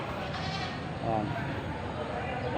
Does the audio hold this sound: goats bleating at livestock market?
yes